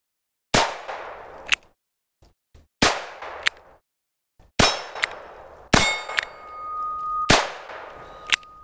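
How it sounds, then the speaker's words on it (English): A .22 pistol loaded with hollow point rounds pinging steel targets outdoors: a series of sharp shots, each followed by a ringing metallic clang, spaced irregularly with pauses between hits. "First of all, we're going to be doing a 22 pistol."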